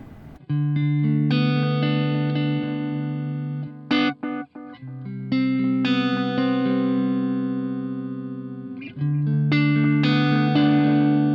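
Electric guitar played through a Keeley Bubbletron pedal with its modulation switched off, a clean sustained chordal phrase that rings out, breaks briefly near the middle, then resumes and swells again, loud and close with no talking.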